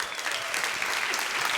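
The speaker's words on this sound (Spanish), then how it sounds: "Denle un aplauso, Señor, pues." A church congregation breaks into steady, dense applause, many hands clapping together at close range for the full moment with no voices on top.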